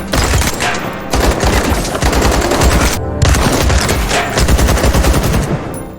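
A Kalashnikov rifle fired at a sand-filled barrel in a quiet alley of a factory compound rattles in loud, sustained automatic bursts, with brief pauses between the strings of rapid shots.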